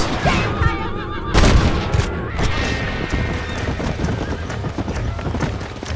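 Horse hooves clatter rapidly in a galloping rhythm in the video game Red Dead Redemption, loud and close, mixed with a neigh and booming background effects.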